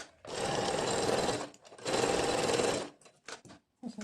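Sewing machine stitching a girl's muslin dress, two loud, steady runs of rapid mechanical chatter about a second each, followed by brief clicks and handling noises.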